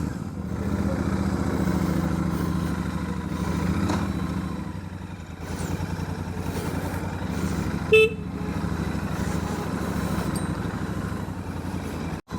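A Royal Enfield Super Meteor 650 motorcycle idles with a steady, deep exhaust burble close by, with one brief sharp tone partway through.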